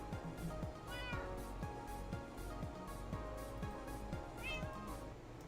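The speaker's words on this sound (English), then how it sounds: "Those are my cats." Pet cats meow through a steady background of rhythmic music, with two clear rising meows standing out among quieter cat sounds.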